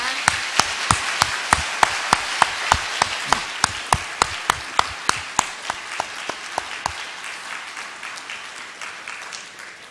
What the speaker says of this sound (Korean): 간증 역사상 박수를 제일 많이 받는 것 같습니다